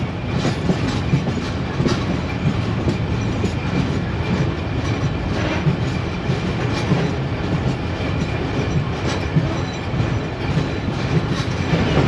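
Inside an AC Standard coach of the 102dn Subak Raftar express running from Gujrat to Lahore, wheels clatter in a continuous clickety-clack rhythm over a steady rolling rumble, loud and close, with no voices.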